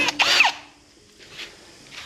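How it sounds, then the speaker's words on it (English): A power drill bores a small pilot hole for fitting new tail lights on a Harley motorcycle, giving one loud high whine that fades, followed by a fainter second burst. "I could have got a blunter drill to make this go a bit slower."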